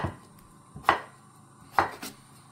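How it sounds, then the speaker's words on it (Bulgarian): A knife chopping potatoes into small pieces on a board, two sharp nearby chops, each followed by a lighter tap, with quiet gaps between them and no talking. "Ние пристъпваме към нарязването на картофите."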